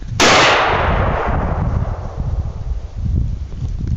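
A single loud gunshot fired at a deer during a hunt cracks sharply at the start, followed by a long rolling echo and wind rumble that slowly fades.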